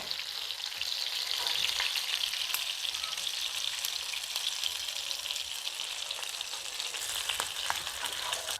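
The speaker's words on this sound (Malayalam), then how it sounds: "ചെമ്മീൻ ഈർക്കിലിയെ കുത്തി പൊരിച്ചത്" Prawns threaded on thin coconut-leaf sticks fry in hot oil, giving a steady, close sizzle with crackling bursts throughout and no voices.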